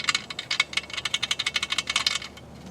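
Metal pull pins on an API Outdoors Alumi-Tech aluminum climbing treestand rattle in quick, repeated light clinks, a close jangling series of small metallic taps.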